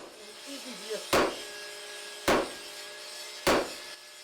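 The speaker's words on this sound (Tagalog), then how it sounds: "Walang tigil na pupukpukin ng bakal hanggang maging matalas ang itak." Three sharp, loud hammer blows ring out about a second apart as steel is hammered to forge a machete blade in a traditional blacksmith's shop, with a brief voice murmuring before the first strike.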